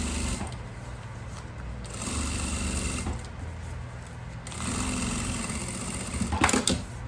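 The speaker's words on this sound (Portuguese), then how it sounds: "Agora eu vou virar e prender com uma costurinha de segurança." A sewing machine stitches a floral makeup bag of synthetic fabric with lining, running in short bursts of rapid mechanical stitching with brief pauses between them, close and moderately loud, ending in a few clicks.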